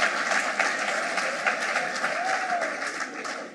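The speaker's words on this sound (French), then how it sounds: "Oh, acclame Jésus, alléluia" A church congregation applauds during a French-language sermon, dense sustained clapping that fills the whole stretch at a loud, even level.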